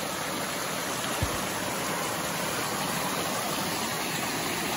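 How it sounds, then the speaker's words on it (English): A small waterfall by a stream on the Appalachian Trail gives a constant, even rush of falling water, a soft broadband hiss with one brief thump near the start. "Nice little waterfall there."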